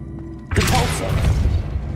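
The Depulso spell cast in a wizarding video game lands as a sudden forceful boom and crashing burst, then a sustained rumble that tapers off.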